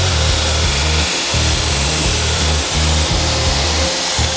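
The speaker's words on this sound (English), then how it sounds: "Grinding bevels is difficult because you've really got to put pressure on to get anything definite enough to work from." Paring knife bevels are ground on a belt grinder under heavy pressure, a loud steady motor roar with rhythmic pulsing passes as the blade is pressed against the belt.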